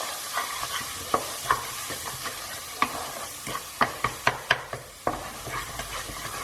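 Kashmiri chili powder and spices stirred in hot oil in a pan on a low flame, with a soft sizzle underneath and a series of sharp spoon scrapes and taps against the pan, some in quick bursts.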